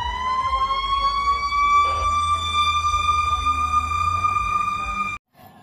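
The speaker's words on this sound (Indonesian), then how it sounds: "Wih, ninu, ninu, ninu. Wow, yang ini pemadam kebakaran" A loud electronic fire-truck siren from a toy wails continuously in a steady, slightly rising tone, then cuts off abruptly near the end.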